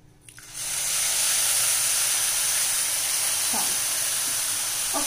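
Milk poured into a hot pan of semolina for ravva laddoos sets off a loud, steady hiss of steam that starts abruptly after a brief clatter and holds for several seconds.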